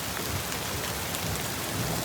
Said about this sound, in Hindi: और बर्फ़ जो है वो बड़ी होती जा रही है, इनके ऐन ओले बड़े होते जा रहे हैं